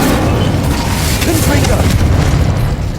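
A Confringo spell in Hogwarts Legacy bursts with a deep, continuous booming rumble that rolls on heavily for several seconds.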